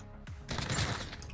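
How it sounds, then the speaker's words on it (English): A single loud, close shotgun blast booms in a Call of Duty Warzone match, preceded by a short sharp click and trailing off in a rough decaying roar. "Oh, it's a shotgun."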